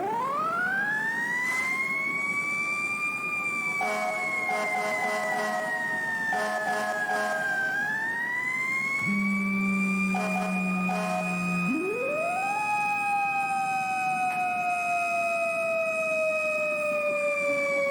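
Fire engine siren from an emergency response video game wails in long rising and falling sweeps, loud and steady with no talk. A lower, shorter whoop cuts in partway through.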